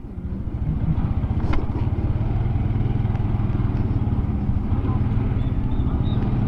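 A Yamaha PG-1 motorcycle engine runs steadily during an off-road test, a low rhythmic putter with a brief clatter near the start and faint background noise.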